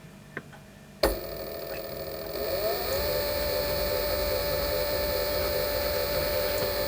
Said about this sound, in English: Help if I turn the lathe on